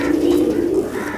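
A chatri wala low flyer pigeon chick coos in one soft, sustained throaty call lasting about a second, close by and alone with no talk.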